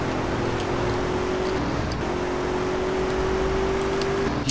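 A steady car engine drone in the video game GTA: San Andreas with a sustained tone that holds, breaks briefly, then rises again under acceleration, with constant road rumble underneath throughout.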